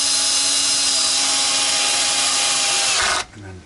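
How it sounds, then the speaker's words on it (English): Cordless electric screwdriver set to a low torque of about 6, tightening screws on a Mexican-made Fender Telecaster: a loud, steady motor whine held for about three seconds, then cut off, close up with no talking. "I've got a torque setting on my screwdriver at about 6 here, which is just enough for this job"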